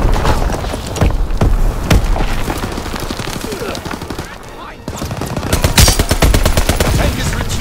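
Call of Duty WWII battlefield with a tank nearby: rapid machine-gun bursts and sharp rifle shots crackle continuously, punctuated by heavy booming explosions, loud and close throughout.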